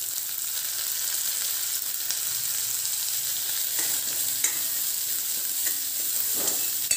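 Onions and curry leaves fry in a pan for a tomato garlic spicy gravy, with a continuous close sizzle and occasional stirring scrapes and clicks, no voices.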